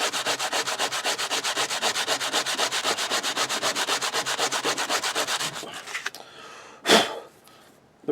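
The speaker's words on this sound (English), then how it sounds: "sand it so it's tapered" Sandpaper rubbing steadily back and forth along the edge of a leather sheath to taper it thin, a close, loud, regular scratching rhythm of about two strokes a second that stops near the end, followed by a brief sharp rustle.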